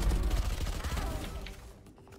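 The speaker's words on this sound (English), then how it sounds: "The SMG shoots way too fast for me" SMG in Valorant firing a very rapid, loud burst of shots that thins out and fades within about two seconds.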